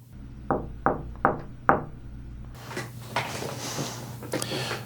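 Four quick knocks on a surface behind a camera, captured by the camera's built-in microphone in a room, clear and fairly loud, then replaced by a steady hiss and faint rustling handling noise.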